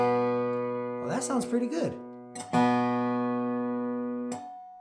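Plucked dobro strings ring out and sustain, the 2nd and 5th strings, both B, sounding together to be matched in tuning, while someone speaks briefly over them before another pluck.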